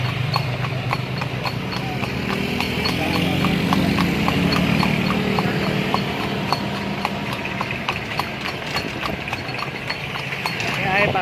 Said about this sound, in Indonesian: jadi si kuda bisa dengan bebas melaju dan membawa penumpangnya